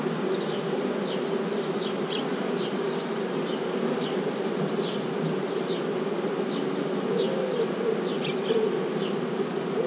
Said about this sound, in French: on va retirer les mâles qui seraient venus de l'extérieur sur les cadres de couvain de ma future ruche à mâles